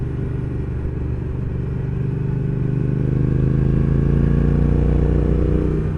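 A Triumph Thruxton R motorcycle rides along a road, its engine a loud, steady, close droning rumble that swells slightly partway through, with no talking.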